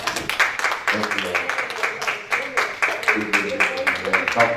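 A church congregation claps in steady, closely packed bursts during a sermon on practicing godly living. The clapping is fairly loud and carries on through the whole stretch.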